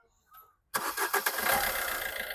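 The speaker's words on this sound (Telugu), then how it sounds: "సింగిల్ సెల్ఫ్లో బండి స్టార్ట్ అవుతుంది" A 2019 Maruti S-Cross Zeta diesel car engine cranking briefly and catching on the first try, then settling into a loud, steady diesel idle close by, with no talking.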